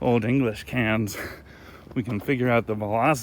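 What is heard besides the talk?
None of the usual background noises is heard.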